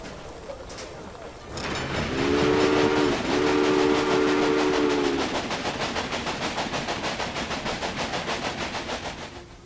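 A train running along its route in the Railway Empire game, with a sustained two-tone horn blast followed by a rhythmic clickety-clack of wheels over rails, fairly loud and steady.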